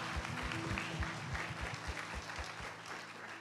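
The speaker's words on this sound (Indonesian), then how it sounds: "Berikan tepuk tangan." Applause from a church congregation at a birthday service, a fairly soft, steady patter of clapping with low rhythmic thumps beneath, continuing throughout without speech.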